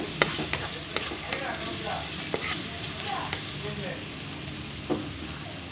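Onions and garlic sauté in a pan with a soft, steady sizzle, punctuated by a few sharp pops and light stirring taps; moderately quiet and close.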